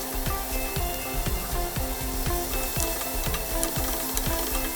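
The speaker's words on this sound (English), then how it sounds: "next into that goes the vegetables, the onions, the ginger and the garlic." Onions, ginger and garlic fry in hot oil with cumin and mustard seeds for a fish curry, giving a steady close sizzle with regular soft scrapes of stirring all the way through, and no one talks.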